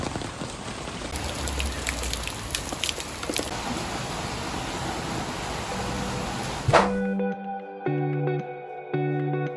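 Steady rain falls in Athens with dense hiss and patter on surfaces for about seven seconds, then stops abruptly and gives way to a sustained tonal, music-like sound.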